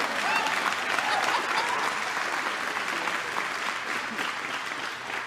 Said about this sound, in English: That's an applause